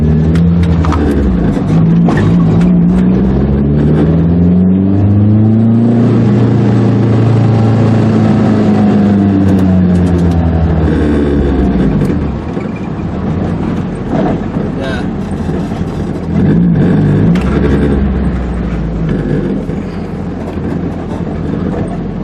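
Loud engine drone from a Nissan 240SX S13 rising and falling in pitch as it accelerates and shifts, with heavy wind rush throughout and no talking.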